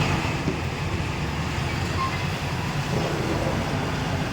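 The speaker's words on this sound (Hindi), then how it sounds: "ये देखिए ऐसा ट्रेन है, बढ़िया लग रहा है ना।" A passing train makes a loud, continuous rumbling roar that stays steady throughout, heard from nearby outdoors.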